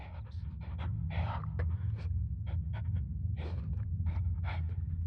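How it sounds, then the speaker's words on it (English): Heavy, labored breathing from behind a locked storage-room door in the horror game Penumbra: Overture, a steady close panting rhythm with repeated breathy bursts over a low droning ambience, no talk. "slurping noises? Heavy breathing, slight choking sounds"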